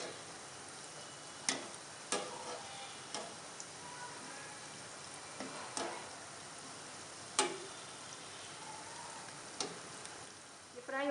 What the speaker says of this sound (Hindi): हमने इन्हें गोल्डन होने तक फ्राई करना है।